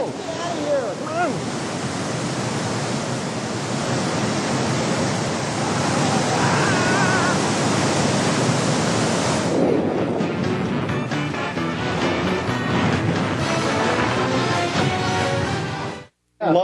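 Rushing water pours loudly and steadily for about sixteen seconds, a dense broadband roar like surf or a flood, then cuts off abruptly near the end.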